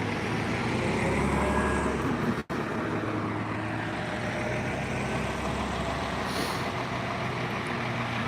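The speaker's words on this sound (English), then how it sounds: "It's a big ass bus." A large bus passes on a street, a loud continuous engine roar and broad rumble filling the scene close by, with a brief sharp break partway through.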